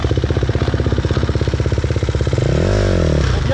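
A motorcycle engine, apparently an enduro bike, chugs loudly up close with a rapid rhythmic pulse, then revs up and pulls away near the end.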